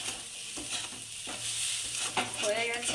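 Semolina stirred and dry-roasted in a pan, a steady soft scraping and rustling with faint sizzle, close and alone, with a few sharper spoon strokes toward the end.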